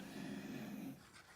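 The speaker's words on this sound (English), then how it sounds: "Oh, my dog's so loud, snoring away." A sleeping dog snores loudly nearby, one low rumbling drawn-out snore that fades into quieter breathing, heard alone without speech.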